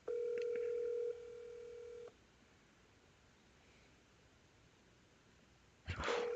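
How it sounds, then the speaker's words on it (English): A phone call being dialed, with a steady tone that shifts pitch partway, then a stretch of quiet line hiss before another short electronic tone bursts in near the end, clear and with no voices. "Let me call him real quick for y'all"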